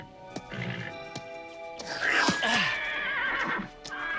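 A horse whinnies loudly and close, with a long shrill neigh that rises and wavers, preceded by softer snorts and a few hollow knocks.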